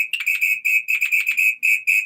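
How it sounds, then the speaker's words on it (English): A shrill samba whistle blown in quick, rhythmic bursts, a rapid series of piercing trilled toots, loud and close. "that's like a samba whistle"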